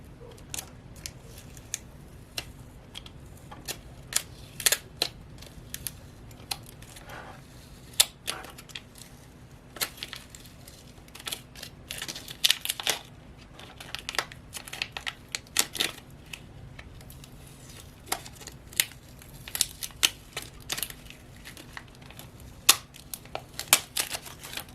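Backing film slowly peeled off a glitter sheet while making ornaments gives a long run of close, dry crackles and sharp ticks, scattered irregularly against a quiet background with no talking.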